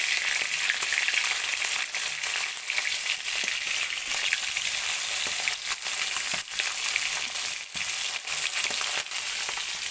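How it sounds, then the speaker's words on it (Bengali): Fish fries in hot oil with a constant, busy sizzle and scattered sharp pops and crackles, close and fairly loud throughout. "এখন আমি হচ্ছে মাছগুলো ভাজা করে নিচ্ছি"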